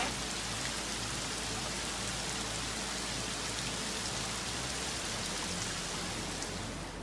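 Heavy rain pours steadily during severe flooding in China, a dense, loud, unbroken roar of drops hitting surfaces that stays constant throughout.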